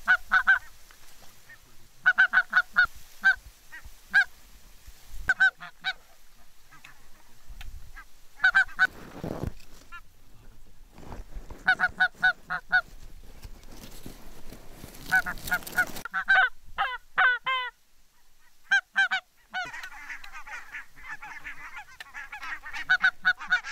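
Barnacle geese honk in Denmark, repeated yelping calls from a flock, some near and some distant, coming in irregular bursts over a quiet field with occasional wind noise.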